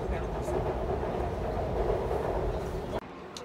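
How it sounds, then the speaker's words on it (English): Train station ambience with a steady rumbling roar of trains, loud and continuous, cutting off abruptly near the end into quieter room tone. "So we made it to the train station."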